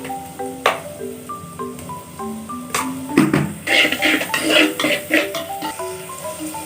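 Onions sautéing in a pan for a mushroom curry, stirred with a spatula, give repeated scrapes and clinks over a low sizzle, with a melodic backing running throughout.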